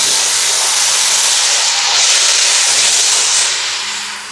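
Chili sauce hits a hot pan and sizzles loudly, a steady broadband hiss that holds for several seconds before easing slightly toward the end.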